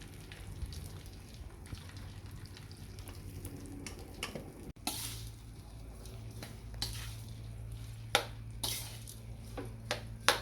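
Garlic and leftover rice frying together in a pan for a tosilog breakfast: a faint, steady sizzle with scraping stirs and a few sharp clinks of a utensil against the pan.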